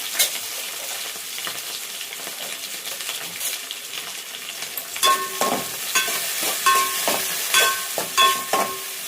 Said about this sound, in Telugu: ఇక ఇప్పుడైతే పచ్చిమిర్చి, ఉల్లిగడ్డ, కల్లిమాకు వేసేస్తున్నాం. ఇంకా ఫ్రై చేసుకుందాం.